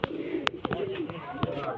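A pair of show pigeons gives soft, close coos and a few short calls, with wingbeats and light clicks; someone talks over them.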